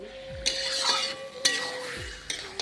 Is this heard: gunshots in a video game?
no